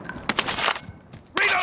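Video game gunfire in short bursts of sharp automatic shots, loud and close, separated by a brief lull.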